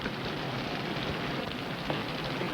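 Rain falls in a forest setting as a steady, even patter and hiss with no distinct drops standing out and no voices.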